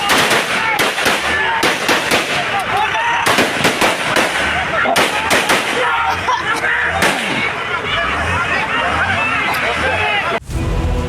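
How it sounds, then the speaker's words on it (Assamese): Heavy gunfire is fired into the air to disperse protesters in Manipur, loud bursts of rapid sharp cracks in clustered volleys over crowd noise and talking. "জটিল পৰিস্থিতি দমনৰ বাবে শূন্যলৈ ধাৰাসাৰ গুলীবৰ্ষণ"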